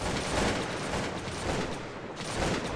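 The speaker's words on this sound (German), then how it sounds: "Die Feinde haben das Feuer eröffnet!" Musket volleys in the strategy game Cossacks: Battle for Europe, English versus Austrian armies, form a dense, continuous crackle of massed gunfire that swells and recedes in waves, steady and loud with no talking.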